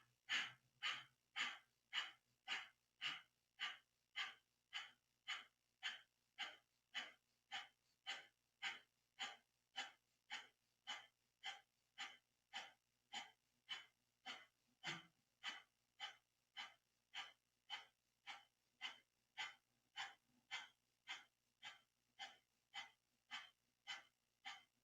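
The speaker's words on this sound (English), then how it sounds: "breathing is through the nose, and our eyes are closed" Rapid rhythmic nose breathing during a Kundalini yoga exercise, dozens of quick, even sniffing breaths in a steady pulse, close and fairly quiet, with no talk.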